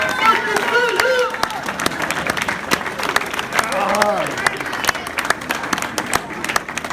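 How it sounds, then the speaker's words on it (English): Wedding guests clap for the best man in a lively round of applause with cheering and crowd chatter mixed in, sharp individual claps standing out from the din. "a big round of applause for your best man."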